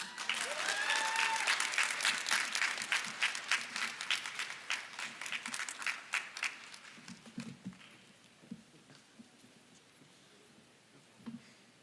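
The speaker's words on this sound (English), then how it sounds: "Let's give Miss Adrienne White another round of applause." An audience breaks into loud, dense applause that gradually thins to scattered claps and dies away, with a few faint voices underneath.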